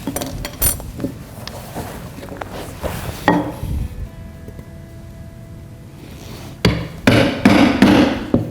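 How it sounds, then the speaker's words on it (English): Sharp taps of a hammer striking an awl into wood, a few scattered blows, then a quieter pause before a cluster of louder knocks. "where you're going to make a little hole with your awl"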